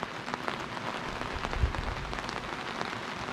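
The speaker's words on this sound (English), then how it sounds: "it's been raining now for about 45 minutes" Steady rain pours down during a storm outside a Casita RV, a dense, continuous patter of drops on surfaces that stays even and fairly loud throughout, with no voices.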